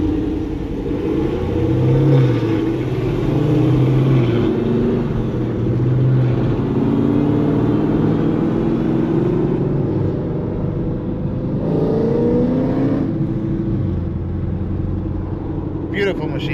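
An E85-fueled LT1 Camaro on a dyno roars loudly, with a few quick rev sweeps rising and falling early on, then a sustained heavy engine note with rising pitch toward the end.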